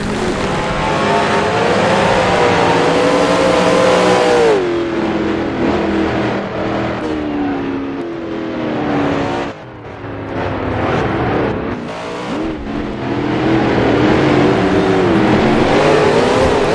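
1966 Can-Am race cars roar in the Grand Prix Legends sim at Mont Tremblant, engines rising and falling through corners with a brief lift near the middle, loud and continuous with no talk.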